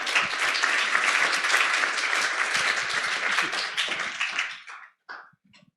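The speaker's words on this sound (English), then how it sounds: "a round of applause for our panel" A conference audience applauds a panel at a policy-day plenary, a dense sustained burst of clapping that tapers off after about four and a half seconds, leaving a few scattered claps.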